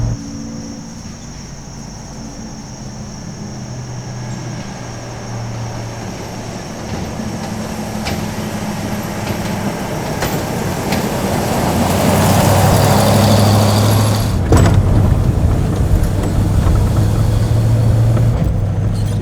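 A car rumbles over a rough, bumpy road in a steady low drone that grows louder, with clattering knocks and thumps from the bumps and no talking.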